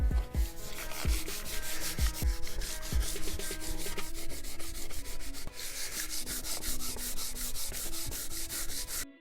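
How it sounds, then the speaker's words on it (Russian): White paint is rubbed off an unfired grey wooden board in rapid, regular scrubbing strokes, a close, continuous rasping rhythm with a few heavier thuds at the start. "Сейчас будем стирать белую краску, которая нанесена на серую просто и на необожженную доску."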